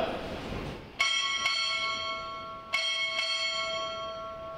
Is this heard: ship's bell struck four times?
yes